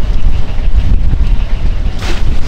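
Strong wind buffets a Pacific fishing boat at sea, a rough, gusty roar hitting the microphone close and loud, with a brief hissing surge near the end and no voices.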